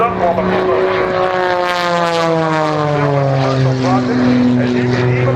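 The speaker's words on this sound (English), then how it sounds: "he's got that T-33 sitting there taxiing down the runway" A T-33 airplane taxiing down the runway at an air show gives a loud, steady engine drone with shifting whining tones, close by and continuous throughout.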